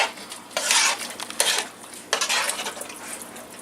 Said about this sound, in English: now I'm going to stir it together.